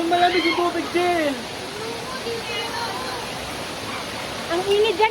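A waterfall inside a cave gives off a steady, full rushing roar, with people talking and calling out over it at the start and again near the end.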